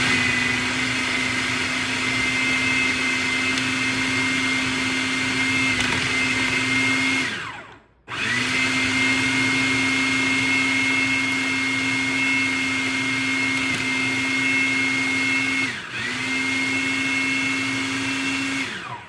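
An electric blender whirs loudly and steadily while mixing hummus with water, pepper and salt, with its motor pitch dipping as it stops briefly twice before starting again.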